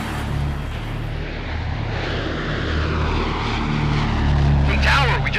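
A small Citation business jet on the runway at an airport, its steady engine roar filling the scene with a rising whine near the end, heard over radio chatter from the tower.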